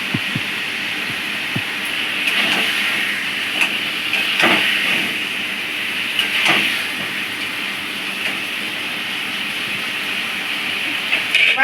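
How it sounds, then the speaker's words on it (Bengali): Chicken pieces braised with sour yogurt in a pan give a steady, loud sizzling hiss throughout, with a few brief clatters and stirring knocks. "এবার ওর মধ্যে টক দইটাও দিয়ে দিলাম।"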